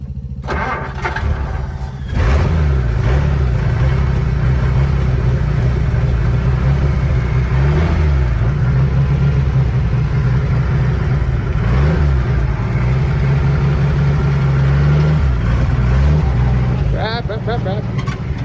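An all-original 1960 Willys pickup engine starts and runs, a loud steady low rumble with periodic rising revs and throttle swells throughout, while people talk over it.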